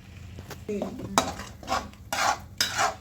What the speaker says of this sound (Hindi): अब इसी में हम अपनी टमाटर वाली प्यूरी भी डाल देते हैं।